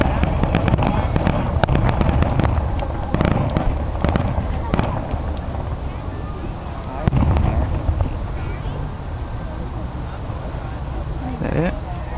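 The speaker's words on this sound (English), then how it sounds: "I almost found that the Halloween fireworks were better." Fireworks bursting in a red and white display, a series of booms and crackles at close to middle distance, with people talking and reacting throughout.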